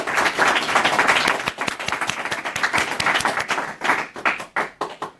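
A conference audience in Orvault applauds Jean Messiha, dense clapping filling the room for several seconds, then thinning into scattered individual claps near the end.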